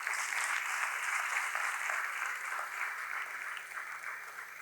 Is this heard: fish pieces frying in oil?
no